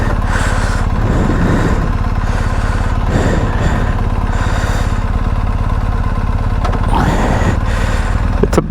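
A BMW GS motorcycle rides on a chilly fall group ride in the Ontario Highlands. The engine drones loud and steady throughout, with throttle swells rising and falling and some rushing wind noise.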